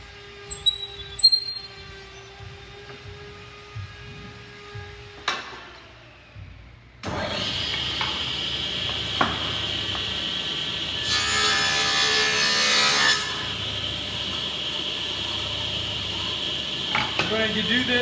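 A table saw with its blade set halfway through cuts a groove in a wooden drawer front board. Faint clicks and handling noises come first, then the saw starts with a loud, sustained whine and a harsher cutting stretch partway through.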